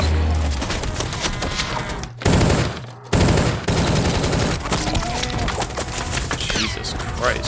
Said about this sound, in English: You get hit with one of those bullets, you're not gonna live through that.